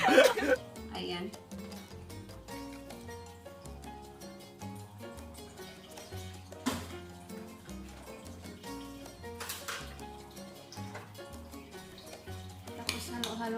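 A tuna avocado salad with parsley is stirred in a bowl, giving soft clinks and scrapes of utensil against dish throughout, mixed under background music.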